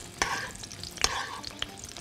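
Chicken slices stirred and frying in a hot pan, a soft steady sizzle broken by a few sharp scraping clicks of a utensil against the pan, close and with no talking.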